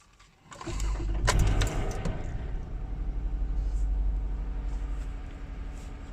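A Toyota Kluger with a misfire fault starts up: a quick crank catches into a loud, steady rumbling idle that carries on close by, with no one speaking.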